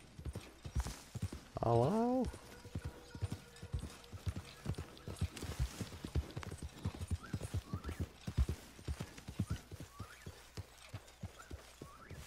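Horse hooves clip-clopping beside a tent in a video game, a steady run of close hoofbeats with a short whinny near the start and a single spoken voice.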